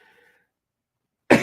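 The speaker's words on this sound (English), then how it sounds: "I'm just at the coughing spell." A single sharp, loud cough bursts out near the end after a near-silent stretch with a faint trace of sound at the start.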